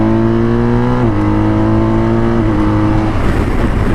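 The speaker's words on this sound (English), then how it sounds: "and especially the boxer motor" A BMW R1250 RT police motorcycle's 1254cc boxer motor hums loud and close, its pitch stepping down in stages before breaking into rougher revving at the end.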